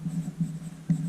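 Pen or pencil scratching out a label on paper, a few close, soft strokes in short bursts with brief pauses between them, no voices present.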